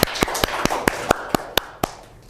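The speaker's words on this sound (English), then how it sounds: "Give applause to Nashwa" About ten sharp, evenly spaced claps from a small classroom group, ringing out close and distinct in a slow rhythm against a quiet room.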